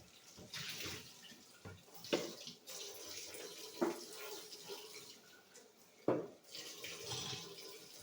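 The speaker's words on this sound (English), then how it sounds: "I'm going to go over here to the sink. I'm going to wash this out, right?" Tap water runs into a kitchen sink while a kefir container is rinsed out, a steady soft splash broken by a few sharper knocks and clatters of the container against the basin, fairly quiet and with no voices.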